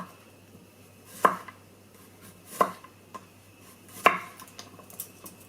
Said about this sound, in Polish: Rzodkiewkę kroimy w plastry.